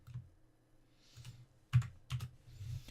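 Keyboard shortcuts tapped on a computer keyboard while coloring a manga character digitally: a few soft, scattered key clicks, with two firmer presses close together near the end, quiet and close with no speech.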